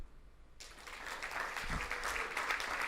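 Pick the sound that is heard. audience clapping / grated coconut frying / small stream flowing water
audience clapping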